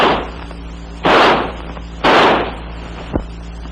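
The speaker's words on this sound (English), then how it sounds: "By closing the bolt and turning the selector lever to semi, the rifle will fire semi-automatically." XM16E1 5.56mm rifle fired semi-automatically, three separate sharp close reports about a second apart, each with a short decaying tail.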